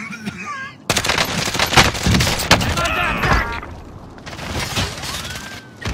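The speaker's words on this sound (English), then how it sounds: "Receiving hostile fire." Hostile gunfire in a battle royale video game erupts in dense, loud bursts of rapid shots. It runs for several seconds, with a chirping synthetic tone near the end.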